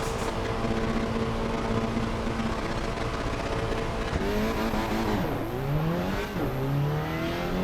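Race car engine in Assetto Corsa EVO, loud and steady, revving through gear changes with rising and falling pitch, plus a high tire squeal in the latter half.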